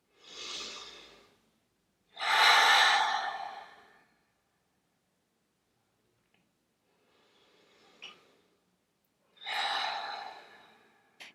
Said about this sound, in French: Prenez une grande inspiration pour vous dynamiser